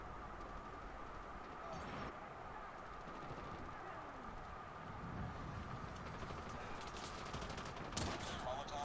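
Gunfire in the mobile shooter COD Mobile, including a Kilo bolt-action rifle, crackling amid dense battle noise and train-like rumble, with a sharp loud burst near the end and a voice talking over the action.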